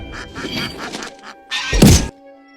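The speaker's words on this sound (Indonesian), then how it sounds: "terdengar suara bebek yang baru saja dipotong" A duck gives several loud, close quacks, ending with a final harsh burst and a dull thump as it is slaughtered, all within a couple of seconds.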